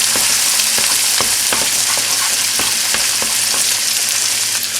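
Two eggs fry loudly in a wok for a shrimp pad thai, a constant close sizzle punctuated by spatula scrapes and taps against the pan.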